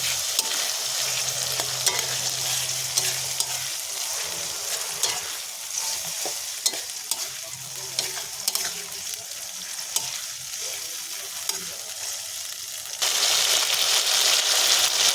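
Garlic, ginger and cumin pastes with dried chilli sizzle in a pan for a bhetki fish-bone curry, a steady close frying hiss with repeated spatula scrapes and taps, swelling louder near the end.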